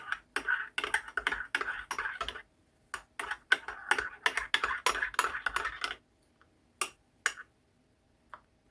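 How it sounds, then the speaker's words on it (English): A spoon quickly stirring a cup of freshly made coffee, a fast run of close, bright clinks against the cup that pauses, resumes, then slows to a few scattered taps. "Give that a quick stir."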